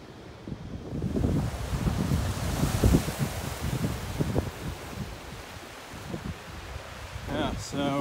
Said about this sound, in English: you can almost surf those waves, man